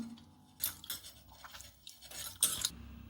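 A large tomato is squashed by hand and mixed into a rasam paste in a vessel, making wet squelches and scattered clinks against metal, close and fairly quiet, in a few uneven bursts.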